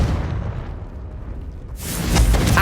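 Confringo blasting spell in Hogwarts Legacy, a low rumbling burst that settles, then a sharper crackling blast hits near the end, loud and close with no speech.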